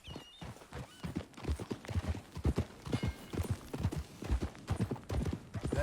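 Horse hooves clip-clop steadily and close at a brisk riding pace in Red Dead Redemption 2, a dense rhythmic run of hoofbeats with no talking.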